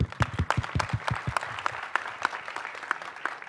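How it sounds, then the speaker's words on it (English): Hands clap at a Marathi film music launch as children come on stage, opening with several sharp, close claps and then thinning into a lighter patter of applause. "Please applaud them."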